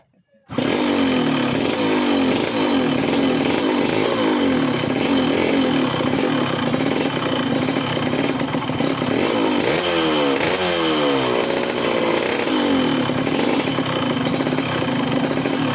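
Yamaha RX-King motorcycle engine running loud and steady during a clutch check, a close two-stroke buzz with revs rising and falling around the middle, voices faintly under it.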